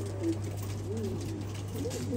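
Pigeons of a fancy breed coo softly and repeatedly in a low, wavering murmur, steady and close over a constant background hum.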